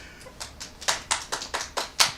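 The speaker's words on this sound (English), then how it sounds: "We got some applause." A small comedy club audience claps: a sparse handful of separate, evenly spaced claps, about eight sharp hits in two seconds, fairly close and with no talking.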